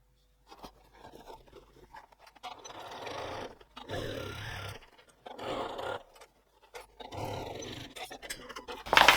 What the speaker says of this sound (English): I'll just stitch along there to close the turning gap, 3mm or 1/8 of an inch from the edge